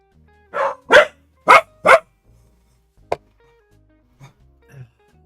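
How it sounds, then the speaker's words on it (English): Dogs bark indoors, four sharp close barks in quick succession, then a single yip and two faint softer woofs after a pause; no talking. "Dang dogs."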